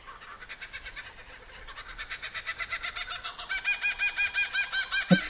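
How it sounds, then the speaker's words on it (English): Kookaburra laughing call, a rising series of rapid cackling, chuckling notes that grows louder and more frantic toward the end, heard alone and fairly close. "which Australian bird is famous for laughing rather than singing?"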